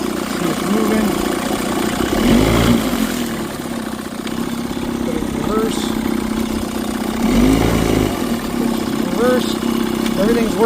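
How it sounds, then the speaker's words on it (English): Motorcycle-type engine idling steadily and loud in the foreground right after being put in gear, with low rumble swelling briefly twice; the motor had run perfectly when it left a marketplace sale. "Comes right back down to idle. Put it in gear."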